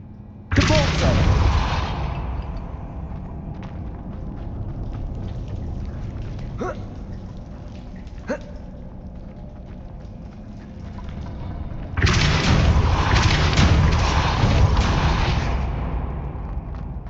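Two powerful force blasts from the Depulso spell in Hogwarts Legacy, each a sudden loud whooshing burst that decays over seconds, separated by quieter game ambience with a couple of faint clicks.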